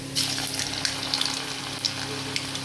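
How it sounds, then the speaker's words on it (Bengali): French fries frying in hot oil at home, a steady close bubbling sizzle with faint crackles running throughout, no voices. "এভাবে আমি ভেজে নেবো আমার ছেলে ভীষণ ভালোবাসে ফ্রেঞ্চ ফ্রাই"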